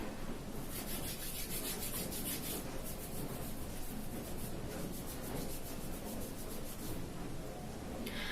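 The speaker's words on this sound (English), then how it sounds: "apply soap and rub them together" Soapy hands rubbing together during handwashing, a steady, close wet friction sound running unbroken throughout, with no voices.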